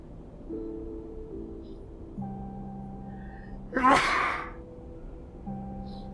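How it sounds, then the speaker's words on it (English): A single sharp sneeze bursts out midway over a quiet backdrop of low sustained tones and soft hum, in a video game. "And I sneezed, hard, like gunshots."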